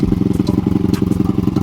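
Motorcycle engine fitted with a 125 exhaust, running on 94 octane, idling close up with a loud, rapid, evenly pulsing thump and chatter that holds steady throughout.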